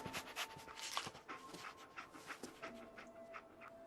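Dogmeat, the dog companion in the game Fallout 4, pants in quick, soft rhythmic breaths at close range, quiet and continuous under faint background game sounds.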